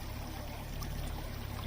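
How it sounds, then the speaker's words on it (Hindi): Soft, continuous burbling and trickling of spring water bubbling up from the ground into Blue Lake in Naltar Valley, Pakistan, faint and steady, with no voices over the brief gurgle. "पानी निकल रहा है ज़मीन के अंदर से, ऐसे बुलबुले बन रहे हैं"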